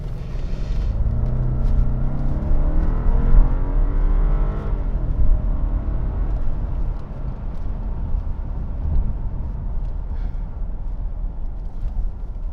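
A 2011 Alpina B7, a heavy luxury sedan weighing about 5,000 pounds, accelerates hard in Sport Plus mode with a loud, continuous engine roar, the pitch sweeping upward through the gears as it rumbles steadily from inside the cabin.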